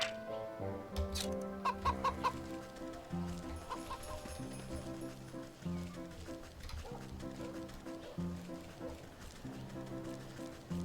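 A goose in the video game Wytchwood gives repeated short clucking, honking calls that rise over steady looping game music.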